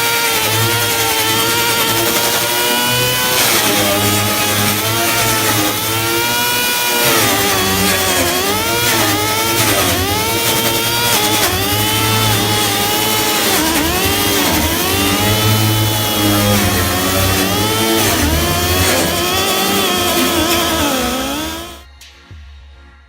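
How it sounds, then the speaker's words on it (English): A handheld air tool spins a wire wheel to clean metal on a 1971 Chevelle, whining continuously at close range with pitch wavering under load, then cutting off near the end. "I take my air tool, my wire wheel,"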